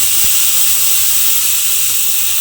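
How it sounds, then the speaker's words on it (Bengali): Water hitting a hot griddle brushed with a little oil before dosa batter goes on, a loud steady steam hiss running through the whole stretch with no talk. "এইবারে আমি এর মধ্যে দিয়ে দেব অল্প সামান্য একটু জল"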